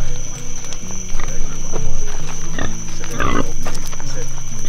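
Deep pig grunts and snorts sound up close, tangled with excited talking and shuffling movement throughout.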